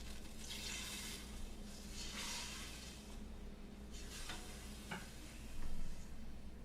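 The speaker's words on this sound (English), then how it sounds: "Hear it sizzling because it's a big block of ice," A big frozen block of chicken soup stock sizzles steadily in a hot pot, a soft continuous hiss and crackle with a few louder bursts, quiet and close with no talking.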